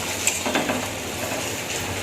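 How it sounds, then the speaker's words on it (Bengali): Eggplant slices frying in a home kitchen pan give a steady, moderately loud sizzle with a few faint clicks and scrapes near the start, and no one talks. "বেগুনটা এখানে ভাজা হচ্ছে"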